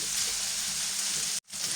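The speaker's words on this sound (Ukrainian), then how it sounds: "Ось так вона в мене смажиться." Sausage frying in a pan for solyanka gives a steady bright sizzle close up, broken by one brief sharp cutout before the sizzling resumes.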